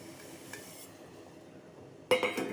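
Vermicelli drops into melted jaggery syrup in a pan for milk payasam, a sudden close clatter and sizzle after a quiet stretch, with faint clinks of utensils.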